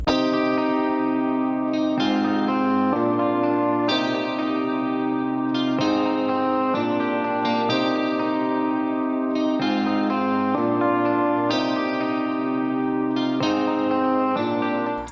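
A MIDI electric guitar track using a Guitar Rig preset with EQ and reverb plays sustained chords, chorus-like shimmer, changing chords every couple of seconds in a steady rhythm.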